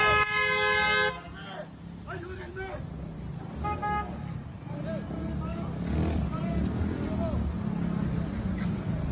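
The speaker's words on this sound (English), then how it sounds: "And people stop around them and honk their horns" Car horns honk repeatedly from vehicles stopped around ICE agents on a street, with one long blast at the start and then shorter toots over steady traffic noise and voices talking.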